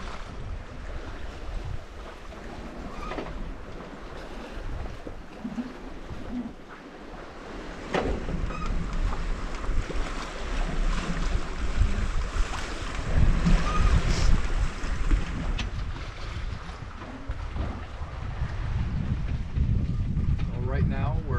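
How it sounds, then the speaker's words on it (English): Wind and lake waves buffet a sailboat under sail with the motor off. Steady gusting wind rumbles across the microphone over a continuous wash of choppy water that grows rougher partway through. "I'm not sure what size the waves are, but they are kind of tossing us around a little bit."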